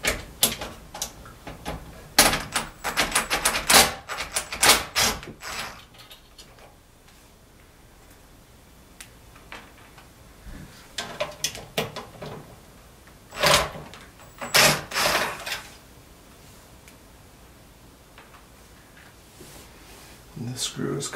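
Screws being backed out of a Samsung DLP television during a chip repair, giving sharp, close metallic clicks and ticks in scattered clusters, with quieter gaps between bursts.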